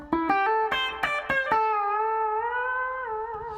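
Electric guitar with a heavy distortion effect, fitted with a bar: a run of quick picked notes, then one long sustained tone that the bar bends and wavers for about two seconds, played alone and up close.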